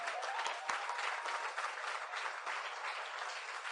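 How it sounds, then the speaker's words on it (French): A church congregation applauds in a dense, continuous wash of clapping that stays steady throughout, with a few faint voices mixed into the crowd. "de donner une ovation de gloire au Seigneur des Seigneurs, de donner une ovation de gloire au roi des rois"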